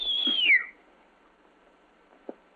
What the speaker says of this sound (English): He is now ready to whistle at the girl to make her angry.